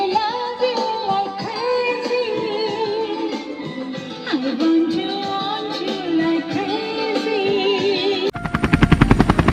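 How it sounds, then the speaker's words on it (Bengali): A helicopter sound effect, a dense rapid chopping and whirring drone that holds steadily for several seconds before ending in a harsher, louder burst of rapid pulses. "আরে হেলিকপ্টারের আওয়াজ কোথা থেকে আসছে দেখি তো।"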